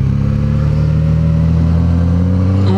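A Suzuki GSX-S1000 naked motorcycle with a 1000 cc inline four-cylinder engine runs loud and close with a steady, buzzing note that edges upward near the end.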